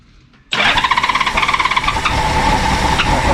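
After a half second of near silence, a 1988 Honda Goldwing GL1500 that sat for 21 years fires up with a sudden loud bang. It settles into a rough, rapidly pulsing idle with a metallic, knocking rattle that stays steady and close.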